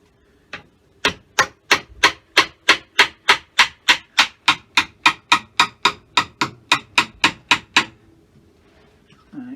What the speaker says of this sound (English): When you're going from the end grain, keep the chisel pointed upwards.